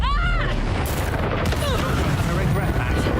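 Incendio fire spell cast in the Hogwarts Legacy video game, heard as a loud whooshing, booming burst of magical fire among a rapid flurry of combat blasts and impacts.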